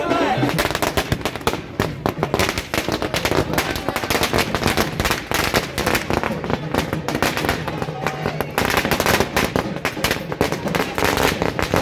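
Dense firecracker barrages at a BJP state headquarters celebration of the Delhi election win, with rapid crackling bursts and sharp pops going nonstop, loud and close, while voices and crowd noise mingle underneath.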